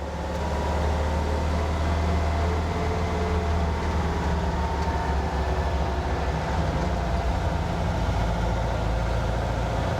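A car engine fitted with dual Weber 40 IDF carburetors runs steadily at around 1,500 to 1,800 RPM, a loud, constant droning rumble with no break or change in pace throughout.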